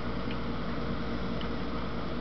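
An air conditioner runs with a steady low mechanical hum and a broad, even whoosh of air, constant throughout with no talking.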